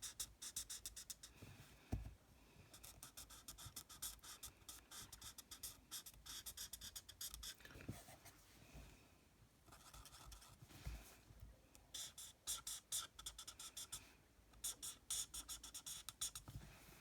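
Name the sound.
colouring in a card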